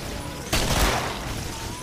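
Gunfire from a gun in the video game Killing Floor: a sudden loud burst of shots that cuts into steady game noise and then dies down into a lingering rumble.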